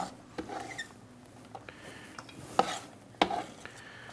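Pumpkin stuffing mixed in a bowl with finely chopped ingredients: soft scraping and stirring with scattered clicks of a spoon against the bowl, two sharper knocks near the end, fairly quiet and close.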